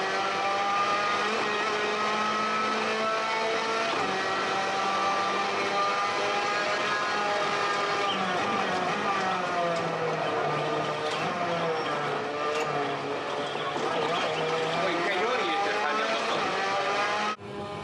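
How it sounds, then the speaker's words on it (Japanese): An F3 race car engine laps the Macau circuit in a driving simulator, a continuous high-revving whine that rises and falls with shifts and corners, loud and steady throughout. "F3 マシンでマカオを激走する"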